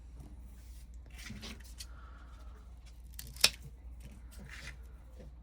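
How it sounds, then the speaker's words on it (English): Left-handed scissors make a single sharp snip while trimming the ends of deco mesh petals for a daisy flower wreath, one crisp cut against quiet craft-table handling noise. "I finally got myself a pair of left-handed scissors"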